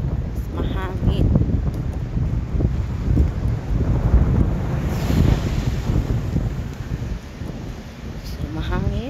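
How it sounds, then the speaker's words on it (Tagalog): Wind gusts outdoors on a mild holiday day, buffeting the microphone with a loud, continuous low rumble that swells and eases throughout. "So, mahangin."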